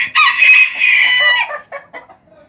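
A rooster on a farm crows loudly and close by in one long call, followed by a few short clucking notes as it trails off.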